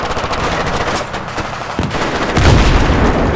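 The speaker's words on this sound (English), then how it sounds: "taking fire from the left!" Sustained automatic gunfire from an ambush in Battlefield 3, dense bursts firing continuously near and loud, swelling heavier toward the end with booming reports.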